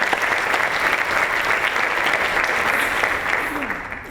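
Audience at a Columbia Association diversity event applauding for a newly tenured Harvard Medical School biochemistry professor, a loud, dense, sustained round of clapping that tapers slightly near the end.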